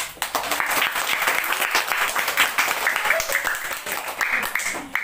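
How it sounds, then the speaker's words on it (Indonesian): Applause from an audience at an Islamic religious lecture on the obligation of the five daily prayers, a dense patter of clapping filling the whole clip, fairly steady and moderately loud, with voices mixed in. "Kalau tepuk tangan lah."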